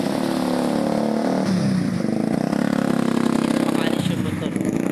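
Motorcycle engine revving and straining while wading through floodwater on a rainy street, loud and close, with voices talking over it throughout.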